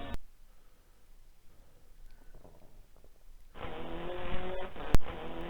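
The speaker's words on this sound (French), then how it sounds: "On note qu'il y a pas mal de bruit de moteur." A low-fidelity engine sample from the World Rally arcade game board comes in after a quiet stretch: a buzzy, band-limited motor drone holding a steady pitch, loud and close, with a sharp click near the end.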